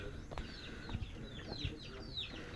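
Chickens cluck and chirp softly in the background amid faint outdoor noise and a few thumps.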